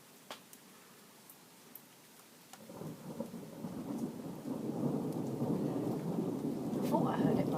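Thunder rumbling during an outdoor thunderstorm, starting quiet with sparse rain and swelling into a long, loud, deep rolling rumble under continuous rain, faint voices in the background.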